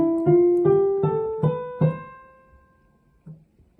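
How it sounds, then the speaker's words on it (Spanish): Major scale played note by note on a keyboard or piano, about seven clear tones stepping upward at an even pace, each struck and ringing, then fading with a soft final touch. "cómo suena una escala mayor."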